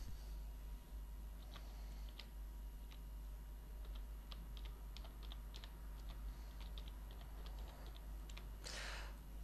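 Typing a website name on a computer keyboard, a quiet irregular run of light key clicks spread over several seconds, close but faint over a low steady hum, with a short louder rustle near the end.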